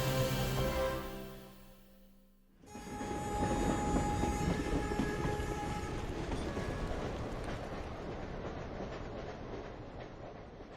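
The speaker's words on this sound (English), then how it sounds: "some mountainous areas are still served by old-fashioned slow trains." An old-fashioned slow train runs through a mountainous area of China, a loud steady rumble of wheels and carriages with rhythmic clacking after a brief quieter gap, continuing close by for several seconds.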